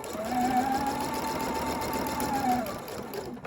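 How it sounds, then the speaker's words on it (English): A home sewing machine runs steadily and close, stitching a pillowcase seam in one continuous whirring burst of about three seconds that slows at the end. "So I'm going to stitch right back to where that seam started."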